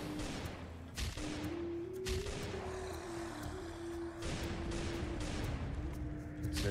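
A neutralizer gun fires in the mobile survival game Last Day on Earth, with several sharp, loud bursts spaced irregularly over a steady humming tone and background game noise.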